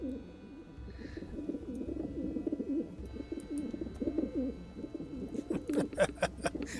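Pigeons coo loudly and steadily nearby in continuous throaty bursts, with a few sharp clicks and higher chirps toward the end.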